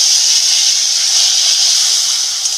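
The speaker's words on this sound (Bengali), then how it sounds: "আগে থেকে টমেটো গ্রেট করে রেখেছিলাম, টমেটোটা দিয়ে দেবো তেলের মধ্যে।" Grated tomato tipped into hot oil in a pan for a Bengali okra masala, giving a loud, continuous hissing sizzle that holds steady and close throughout.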